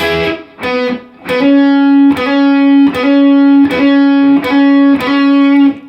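Overdriven electric guitar playing a solo line, a few quick picked notes followed by a steady repeating pattern of sharp attacks over a sustained note, loud and clear with no speech.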